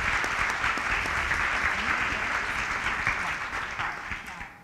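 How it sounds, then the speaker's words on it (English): An audience at a startup pitch event applauds, a steady wash of many hands clapping that slowly thins and fades toward the end. "Let's have a round of applause for Evos."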